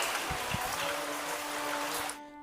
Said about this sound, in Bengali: দারুণ বৃষ্টি হচ্ছে কিন্তু